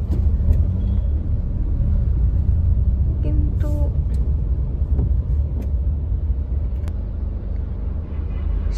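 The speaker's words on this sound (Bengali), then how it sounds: "এখানটা কিরকম পুরো জ্যাম লেগে গেছে, আমরা এই সার্ভিস লেন দিয়ে যাচ্ছি।" Cars idle and creep along in a dead-stop traffic jam on a service lane of a road-trip route, a steady close engine rumble with occasional brief knocks and faint tones, and a voice briefly speaking.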